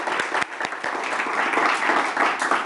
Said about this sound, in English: Let's hear a very loud round of applause for Rabbi Tovia Singer